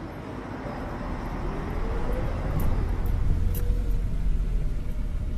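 A car drives steadily with a low, even engine rumble and road noise heard from inside, gradually swelling slightly louder with no talk.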